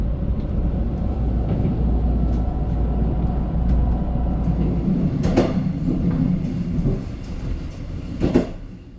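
Mugunghwa train 1671 rumbles through a deep mountain valley, heard from inside the carriage as a steady low roar with occasional clicks and rattles from the wheels.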